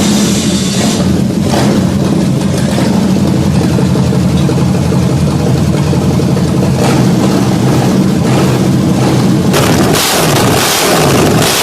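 A restored 1976 Landau 5.0-liter V8 runs steadily at idle, with a loud, continuous low rumble and even engine vibration and no voices over it.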